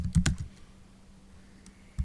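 A short burst of typing on a computer keyboard, a few quick close key clicks in the first half second, then near silence with one faint click and a final key press.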